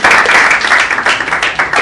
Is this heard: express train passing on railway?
no